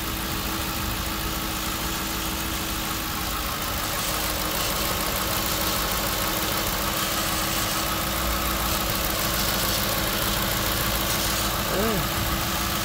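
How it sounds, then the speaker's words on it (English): A 2010 Ford Crown Victoria Police Interceptor engine idling steadily on a jump box, a smooth continuous mid-pitched hum with no smoke, running the whole time while someone talks nearby. "Motor sounds really good."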